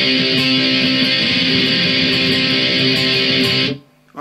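Electric guitar picks ringing notes from a power chord shape in the interlude of a song, a steady, loud picked pattern that stops abruptly near the end, followed by a short quiet pause and one faint final note.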